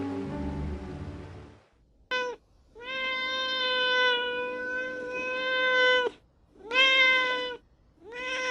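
A lost kitten on city streets gives several clear, drawn-out meows, one long plaintive cry followed by shorter calls, close and alone after a brief low rumble at the start.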